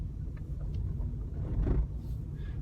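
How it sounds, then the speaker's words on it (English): Road traffic passing along a one-way town street, a low steady rumble of cars and engines swelling briefly as a vehicle goes by nearby. "And there's a bit of traffic."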